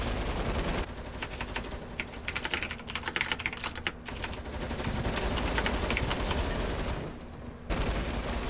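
Light machine guns firing in a competitive shooter match, sustained rapid rattling bursts with brief gaps, dense and close, cutting out near the end before resuming.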